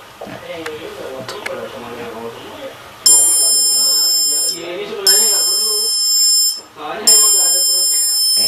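An ultrasonic distance detector's buzzer sounds in loud, steady high-pitched tones, three long bursts separated by short gaps, with a person talking beneath them.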